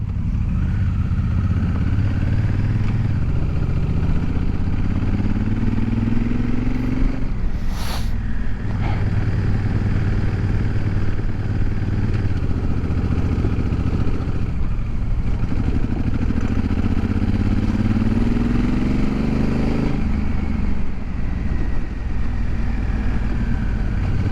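A motorcycle is ridden on the road with its engine droning loud and close throughout, rising and falling through several revving accelerations, with wind buffeting and a brief clatter partway.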